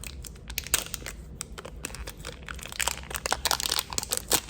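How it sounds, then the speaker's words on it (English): Cellophane wrapping is pulled and crinkled off a beauty product box, a close, continuous run of crackling, crunching rustles with irregular sharp bursts and no talking. "Take the cellophane off."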